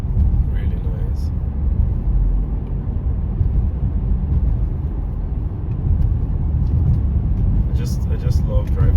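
A car rolls along a wooded country road with a steady, close low rumble of engine and tyres that holds constant throughout, while someone talks over it.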